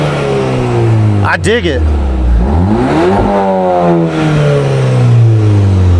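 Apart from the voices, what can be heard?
VW GTI engine revving with Integrated Engineering sport muffler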